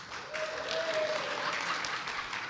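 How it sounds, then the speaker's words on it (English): A congregation at a Unitarian Universalist gathering in Louisiana claps together, a soft, moderately distant wash of applause that swells and holds briefly. "All Souls is going to get their chance to clap."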